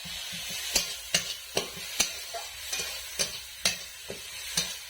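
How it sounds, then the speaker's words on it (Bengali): Garlic and ginger paste sautés in a pan with a soft, quiet sizzle, punctuated by a series of sharp, regular scrapes and taps as it is stirred, about a dozen strokes in steady rhythm. "দিয়ে দিচ্ছি রসুন বাটা, দিয়ে দিচ্ছি আদা বাটা। ভালোভাবে কষিয়ে নেব।"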